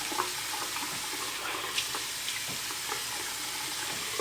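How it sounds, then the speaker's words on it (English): Warm water runs from a bathroom tap during face washing, a steady, close, hissing rush with faint splashes and no pauses. "go ahead and get the warm water running"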